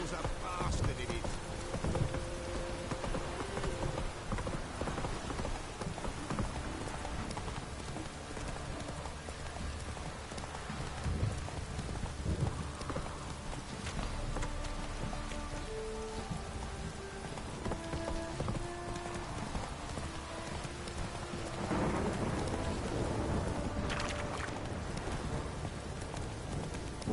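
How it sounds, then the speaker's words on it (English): Steady heavy rain hisses throughout in the video game The Witcher 3: Wild Hunt, with a soft clopping of hooves and faint voices mixed beneath the downpour. "This downpour's a bastard, it is."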